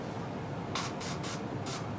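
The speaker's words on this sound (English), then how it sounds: "put a couple bursts into the rag, set the can down" Pledge cleaner sprayed from an aerosol can onto a rag while changing guitar strings: three or four short hissing bursts, close and fairly quiet, over a low background hum.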